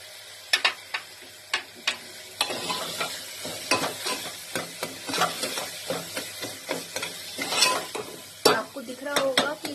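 Black gram masala with coriander and cumin powder being stirred and roasted in a pan, dry sizzling under repeated scraping and tapping of a spoon against the pan, close and fairly loud, no voices.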